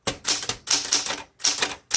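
Rapid clacking keystrokes from a 1969 Smith Corona Classic 12 manual typewriter, crisp close strikes in short bursts of three or four separated by brief pauses, with no voices.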